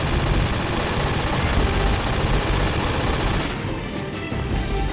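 Sustained rapid gunfire in Metal Gear Solid 3, a dense continuous barrage of shots that stays loud for several seconds, then eases slightly near the end.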